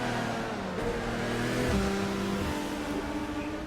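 Engine of an Audi R8 race car in a racing video game, a loud continuous drone with rising and shifting pitch as it accelerates through gear changes.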